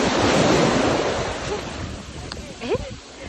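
Ocean surf rolls and breaks on a beach, a steady broadband wash that is loud at first and eases slightly, with wind buffeting the microphone and brief faint voices near the end.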